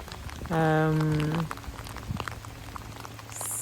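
Rain falls outdoors near misty mountains, a faint, steady patter and hiss throughout, briefly joined by a short hummed voice near the start.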